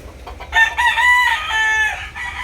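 A White Chocolate fighting rooster crows loudly and close by in one sustained call, with clucking around it and no talk.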